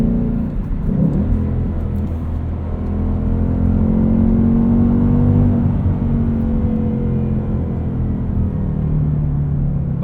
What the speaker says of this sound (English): Those rev match downshifts into first are pretty addictive.